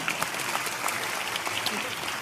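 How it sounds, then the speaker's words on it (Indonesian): A crowd at a religious discussion gathering applauds together, giving a fairly quiet, continuous patter of claps for about two seconds while voices carry on over it. "Oke, tepuk tangan"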